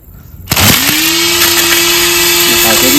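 A handheld grass cutting machine starts up loud and close, then runs at a steady high-pitched whine for the rest of the clip.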